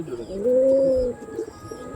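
A white pigeon of the Andhra Kalshira breed gives one clear, drawn-out coo, close by and fairly loud against a low hum of background noise.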